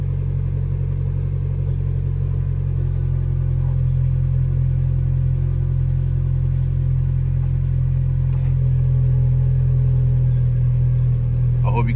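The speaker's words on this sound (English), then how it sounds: "First, we gotta warm the car." A wrecked 2009 Mitsubishi Lancer sits idling as it warms up, its engine giving a steady, loud low hum that holds unchanged with no revving.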